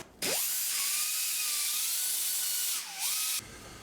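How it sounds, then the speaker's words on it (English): A small angle die grinder sands the inside of a metal part for a large cylinder mount, its steady high whine holding for about three seconds and dipping briefly as the load changes, then cutting off. "just using them in a little angle die grinder there and sanding the insides real quick."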